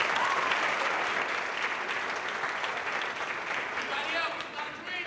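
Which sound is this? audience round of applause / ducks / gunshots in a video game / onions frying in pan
audience round of applause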